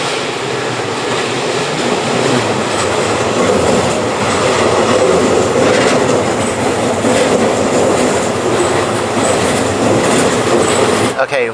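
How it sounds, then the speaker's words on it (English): A train rolls past on nearby railway tracks in Japan, a loud continuous rumble and rattle of wagons close by that holds steady for the whole stretch and cuts off abruptly at the end. "Train coming. There's like train tracks over here."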